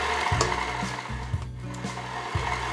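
An electric mixer beats strawberry white chocolate chip cookie dough in a bowl, a loud steady motor whir with rhythmic dips and thumps as the beaters drag through the thick dough, with no talk.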